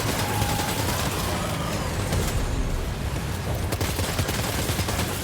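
In the video game Death Stranding 2, a robot is being shot at and the gunfire comes as a dense, continuous rattle. It blends into loud, roaring game noise throughout, with no talking.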